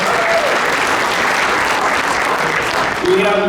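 A crowd at the 2025 Derby inauguration ceremony gives a loud, steady round of applause, dense and continuous throughout, with a faint voice surfacing near the end.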